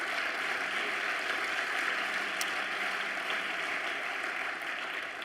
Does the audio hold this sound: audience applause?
yes